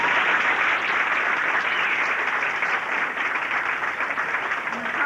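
A crowd applauds graduates at a 1986 vocational training center graduation ceremony in St. Louis, with steady, dense clapping that holds evenly for about five seconds.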